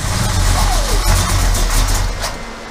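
Car engine with a newly installed carburetor cranking and firing up, a steady loud running rumble throughout, with voices underneath.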